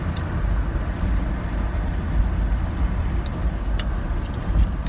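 Steady low road rumble and engine drone from inside a moving car, continuous and fairly loud with faint ticks and rattles, no talking.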